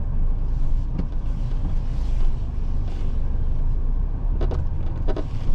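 A Mahindra Thar Roxx engine rumbles steadily at low speed while being parked, close and continuous, with a few faint knocks and no talking.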